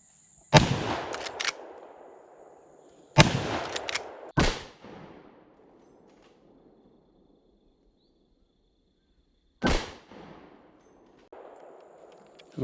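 Marlin 336 lever action carbine in 30-30 fires outdoors at a target, sharp loud reports in an irregular series of about five, each trailing a short echo, with quiet gaps for cycling the lever.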